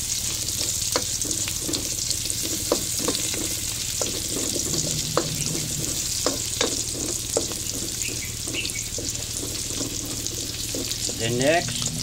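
Garlic and onion sautéing in a hot pan for tokwa't baboy: a steady, loud sizzle runs throughout, with frequent scrapes and taps of stirring and a brief spoon clatter near the end.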